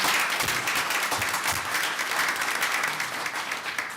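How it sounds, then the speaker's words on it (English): Dense, sustained applause from a crowd at a city council meeting, many hands clapping at once at an even, fairly loud level throughout. "Give them another round of applause."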